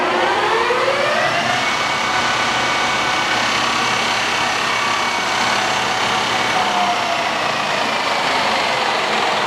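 A Standard Modern 16-60 engine lathe, a roughly 5,500-pound machine, runs at its top speed of 2000 RPM, giving a loud, steady mechanical whine with a high tonal hum that holds unbroken throughout.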